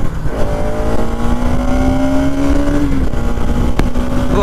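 Bajaj Pulsar NS200 motorcycle, a 2020 BS6 model, revving loudly close by, with a sustained engine drone and rising harmonic whine that climbs, then drops sharply near the end. No voices are heard.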